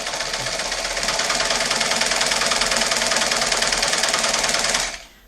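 A Singer 224 sewing machine stitches fabric in one steady, fast, close mechanical whir that runs for nearly five seconds, then cuts off abruptly, with no talking.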